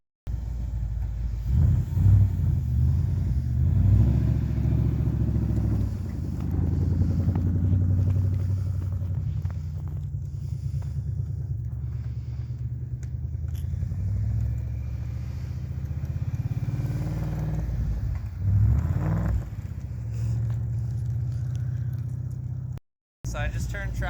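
A 2011 Mustang GT rolls gently around a snowy lot, its engine a low, steady rumble close by with slight rises in revs, while a person talks over it.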